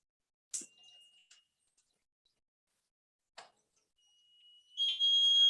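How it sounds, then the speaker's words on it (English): A small buzzer on a water tank level indicator built as a school science exhibition model, sounding a thin high electronic tone in short bursts between clicks and silence, then a louder sustained buzz near the end. "The buzzer is ringing, indicating us the water is nearly full in the water tank."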